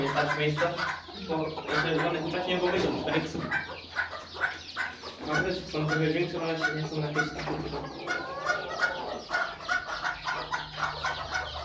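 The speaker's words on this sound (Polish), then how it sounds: "wam pokazuję kurczaki" Young chickens in rearing pens cluck and peep softly beneath continuous talking, with the calls scattered through the whole stretch rather than standing out on their own.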